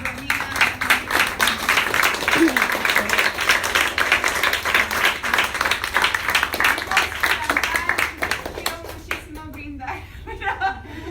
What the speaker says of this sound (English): can we have one round of applause for Jeannine and for Romina?